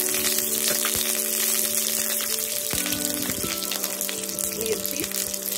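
Curry leaves hit hot oil in a pan with crushed garlic, giving a crackling sizzle over a steady hum, with a few sharp pops and clatters as they go in.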